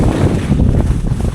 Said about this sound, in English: that wind is really pushing me